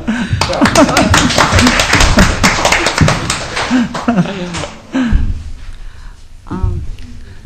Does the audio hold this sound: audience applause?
yes